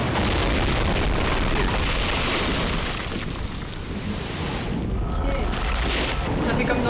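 A loud, sustained explosion rumble from the video game Life is Strange, a broad roaring blast that fills the whole clip and dips slightly midway before swelling again.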